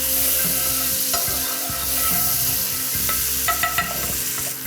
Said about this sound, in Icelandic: og svo dembum við henni á pönnuna